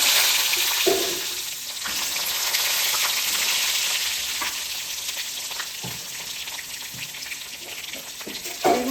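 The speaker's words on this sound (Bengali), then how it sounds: "এবার আমি ওই তেলে কালো জিরে ফোড়ন দিয়ে দেবো তারপর এই যে কেটে রাখা বেগুনটা" Cut eggplant fries in hot oil tempered with nigella seeds, giving a loud, continuous sizzle with occasional sharper crackles and stirring clatter near the pan.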